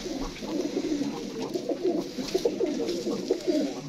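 Pigeons, including a blue ghamgar, coo steadily in a rooftop loft in Faisalabad, with a run of rhythmic, repeated throaty coos close by and no talk over them.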